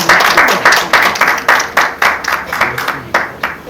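An audience at a forum on paper-pack recycling claps to welcome a speaker to the front, a loud, close burst of rhythmic applause lasting a few seconds.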